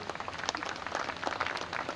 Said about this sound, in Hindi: इनके लिए भी एक बात ताली बजा दो